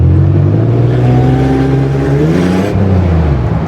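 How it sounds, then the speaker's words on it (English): A TVS1320 supercharger on a 2002 Toyota 4Runner with the 3.4 V6 whines steadily over loud, continuous engine drone, the pitch climbing gradually before dropping briefly near the end. "Let's see if we can hear that supercharger whine."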